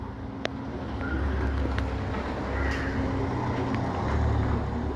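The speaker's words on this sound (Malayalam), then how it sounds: "വണ്ടി പോകുന്ന സൗണ്ടാണ് കേൾക്കുന്നത് കേട്ടോ." A steady low rumble of traffic passing on a road, continuous and moderately loud, with faint intermittent clicks on top.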